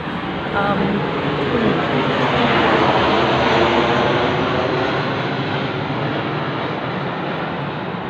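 An airplane passes overhead with a loud, broad engine roar that swells and holds for several seconds, steady and fairly close, with a faint voice beneath it.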